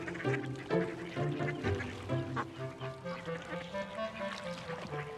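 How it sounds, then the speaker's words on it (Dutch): A flock of ducks quacks repeatedly while being fed bread at the water, rhythmic nasal calls overlapping at moderate distance, fairly quiet. "Die eend heeft een rode snavel."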